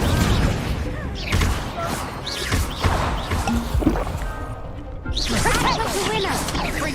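Incendio fire spell cast in the Hogwarts Legacy video game amid a wand duel: whooshing bursts and crackling blasts overlap with other spell impacts in dense, loud game-combat sound, with voices talking throughout.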